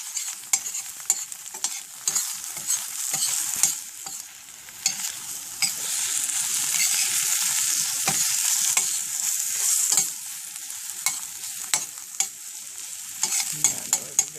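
Eggs frying in a pan for a half-fry, a steady close sizzle with bright hiss swelling and easing, broken by sharp little pops and crackles throughout, with no talking.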